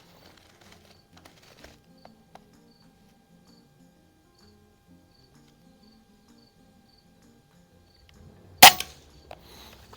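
One sharp, loud crack from a .22 caliber Umarex Zelos PCP bullpup air rifle fired at an outdoor range lands near the end of an otherwise quiet stretch with faint insect chirping.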